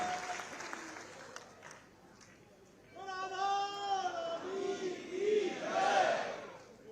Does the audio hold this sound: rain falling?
no